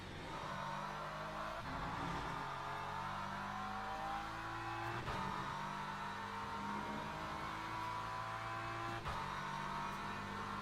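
Onboard a WEC endurance race car lapping Silverstone, the engine drones loud and steady with shifting pitch and brief gear-change breaks, heard alone without talk.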